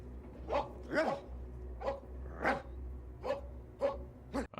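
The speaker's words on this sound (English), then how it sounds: "I think my dogs are actually barking too" Dogs in a room barking, about eight short, fairly faint barks and yips spaced in an irregular rhythm over a quiet background.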